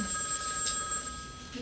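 A telephone rings with a bright electronic trill, a single burst close by in a quiet indoor room.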